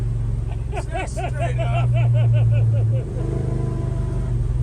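A car with a stock Hemi engine and C6 transmission drives with a loud, low engine rumble under the cabin, while people talk over it.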